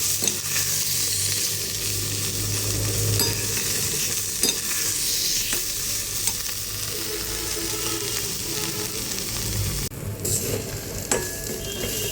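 Ghetkul leaves fry and get stirred in a pan, a steady close sizzle running throughout with repeated scraping and stirring clatters, no voices.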